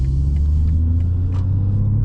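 A car with a Valvetronic mid-pipe exhaust idles with a deep, steady low rumble, loud and close, with faint clicks over the drone.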